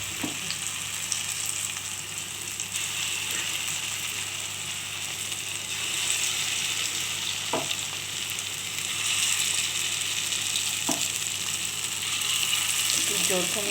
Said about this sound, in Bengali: একটু জোর কমিয়ে দিতে হবে বড়া ভাজার সময়।